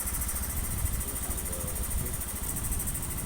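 A Honda Beat scooter engine idles after an injector replacement, a steady, close, low mechanical hum with a faint rhythmic pulse and no voices.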